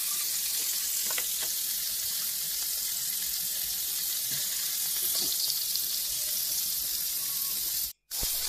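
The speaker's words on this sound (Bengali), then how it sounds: "প্যানেতে আমি মাছগুলো ভেজে নেবো।" Snakehead fish pieces frying in a little oil in a pan, a steady close sizzle with faint crackles, continuous apart from a sudden momentary cut near the end, with no talk.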